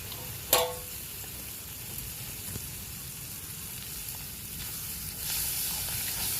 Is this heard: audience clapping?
no